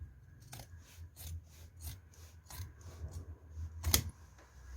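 Scissors cutting through shorts fabric during a garment alteration, a few soft crisp snips and rasps spaced over several seconds, quiet and close with no talking.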